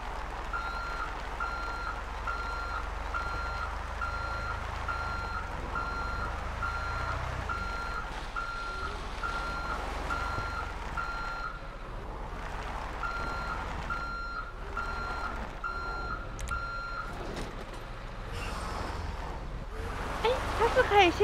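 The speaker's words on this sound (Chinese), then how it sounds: "这个要倒车可能就有困难咯。 我好久没有开卡车了" Reversing beeps from a truck in GTA Online sound in a steady repeating series over low engine rumble, fairly loud and close, with a short break midway before they resume.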